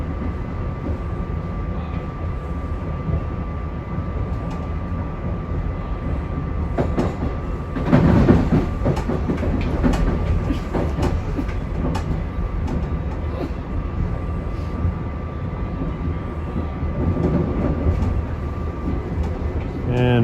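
A SEPTA regional rail train running over the switches of Wayne interlocking, with a steady, loud rolling rumble and a louder burst of clattering wheel noise midway.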